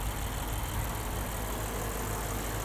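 The 5-liter V8 of a 2022 Lexus IS 500 idles with the hood open, a steady, even low rumble and hum that holds constant throughout, with no one speaking.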